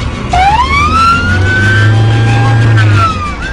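A loud wailing emergency siren sweeping up and holding its pitch, close by, over a steady rumble of traffic.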